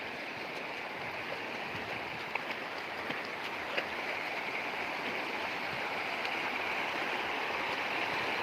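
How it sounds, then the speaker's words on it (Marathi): Constant rushing of fast-moving floodwater flowing across a road after heavy rain, a broad, even roar that never lets up, heard from nearby with no voices. "या रस्त्यावरून इतकं स्पीडनं पाणी वाहत आहे"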